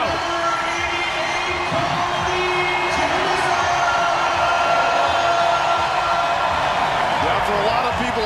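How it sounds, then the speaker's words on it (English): Arena crowd noise from fans at a National Lacrosse League game between the Saskatchewan Rush and Halifax Thunderbirds in Halifax, a steady loud roar of cheering and whooping that holds throughout. "Listen to this crowd."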